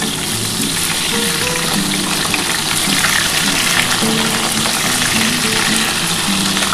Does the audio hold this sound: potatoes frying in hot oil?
yes